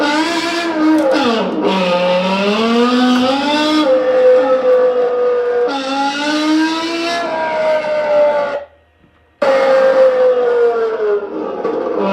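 A high-pitched BMW E60 M5 V10 exhaust in the Assetto Corsa racing game howls as it revs up and down through several gears, cutting out briefly before roaring again; no voices.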